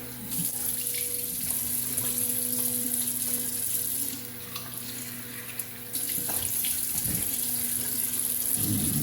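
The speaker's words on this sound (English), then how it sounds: "And do a quick rinse here." Running tap water rinsing a straight razor, a steady close hiss of flowing water for several seconds with a short dip in the middle.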